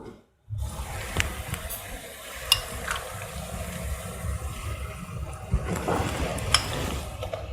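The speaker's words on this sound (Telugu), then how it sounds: "ఇప్పుడు మనం ముందుగా మ్యారినేట్ చేసి పెట్టుకున్న రొయ్యలు ఇందులో వేసేసుకుందాం" Marinated prawns sizzling and frying in a hot pan over high flame, with occasional stirring clatter and a brief sharp sizzle at the start after silence.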